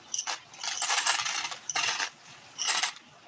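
Small hard rainbow-coloured shards pour into a box and clatter in several bright, jingling bursts, close and fairly soft, with short pauses between pours.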